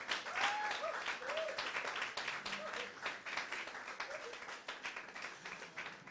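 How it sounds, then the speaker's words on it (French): An audience at an education debate applauds to welcome Mademoiselle Zaratou Firial, steady clapping from a room full of people, moderately distant and sustained for several seconds with a few faint voices mixed in. "Il y a une seconde personne, à savoir mademoiselle Zaratou Firial, que je vous demande d'acclamer alors qu'elle me rejoint."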